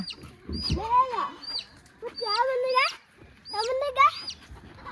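Chicken clucking and chirping calls in short bursts, close by, with a voice speaking softly underneath.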